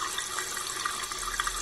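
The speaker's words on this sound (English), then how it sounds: "Can you turn on the water for me" Water running from a tap in the Daniel Tiger's Neighborhood potty video game, a steady, soft, continuous hiss of flowing water with faint splashy flickers, alone without talk.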